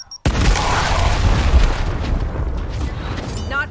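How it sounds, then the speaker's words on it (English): A frag grenade exploding in the video game Gears Tactics, one sudden loud boom after a brief silence, followed by a long rumbling roar that slowly fades over a few seconds. "I can lob a grenade and kill 4 of you."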